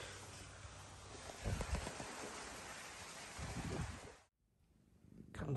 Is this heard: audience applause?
no